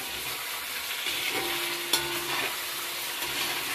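Pieces of local chicken meat and chopped potatoes fry in a pan, giving off a steady close sizzle, with a sharp scrape from stirring partway through and no talk.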